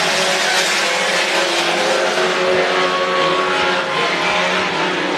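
RaceSaver sprint cars roar around the dirt oval at Crawford County Speedway, a loud, continuous wall of engine noise with no break across the clip.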